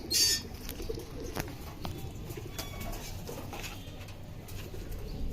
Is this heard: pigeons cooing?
yes